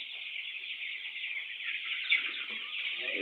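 Broiler chickens cluck and chirp in a flock on a poultry farm, their faint, continuous high-pitched calls forming a dense background chorus.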